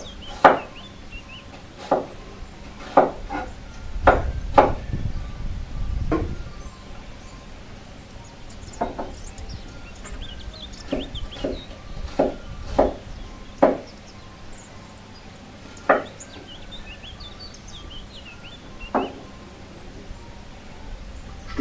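A knife chops an onion on a wooden board in irregular bursts of sharp, close taps, quick clusters early and sparser single strikes later, with no one talking.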